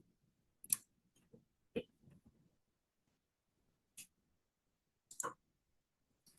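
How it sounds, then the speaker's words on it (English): Several sharp, isolated clicks spaced irregularly over a few seconds while a timer is set during an archaeology meeting, quiet and close, with a faint murmur of talk in between. "Let's set a timer so I don't go over."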